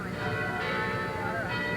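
Church bells at the Santa Barbara mission toll on a rainy day, a steady ringing drone with layered overtones filling the short stretch without pause.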